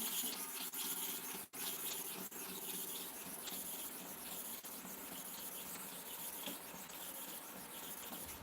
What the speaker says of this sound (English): Now 12 and fro 30 times to cover the whole surface of the stone again.